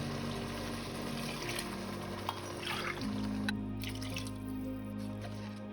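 Five and a half cups of water go into a vegetable biryani pot that already holds coconut milk: a faint, uneven pour and drip beneath a steady low hum.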